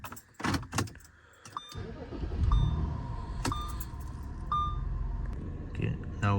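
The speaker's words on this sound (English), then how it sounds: "I'm gonna go ahead and turn the car on." Car engine cranking and catching after a few clicks and beeps, then settling into a steady low idle rumble with faint chimes over it, a voice briefly audible at the start.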